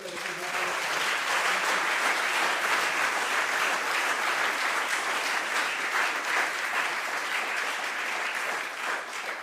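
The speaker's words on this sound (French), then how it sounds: "je pense qu'on peut applaudir tous les bénévoles" A conference audience claps for volunteers in a dense, sustained round of applause that holds steady for several seconds before easing slightly.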